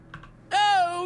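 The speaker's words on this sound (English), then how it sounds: "she's got a rather large litter of kittens" A few faint clicks, then a single loud, drawn-out meow from one of the kittens in the Wizard101 video game.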